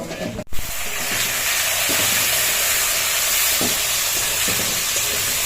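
Garlic, ginger, onion and capsicum fry in a pan with a loud, steady sizzle and hiss, broken at the start by a sharp clatter as the pieces drop in and stirring scrapes along the bottom.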